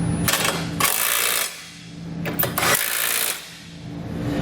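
A 19mm socket on a ratchet snugs up trailer hitch bolts in two quick bursts of rapid clicking, close and sharp, separated by a short pause.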